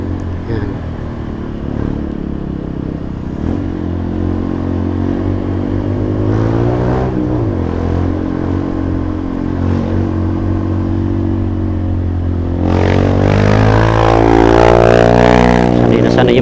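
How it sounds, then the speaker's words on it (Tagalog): Motorcycles climbing a steep road in Angono, engines droning loudly and close with shifting pitch, rising into a stronger revving surge near the end, with outdoor traffic noise around. "Sanay na sanay yung mga motor dito ah."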